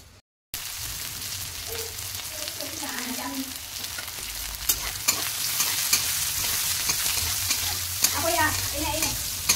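Onions frying golden brown in oil on low heat, a steady close sizzle with bubbling crackles that grows slightly louder partway, with a faint background murmur and no clear speech.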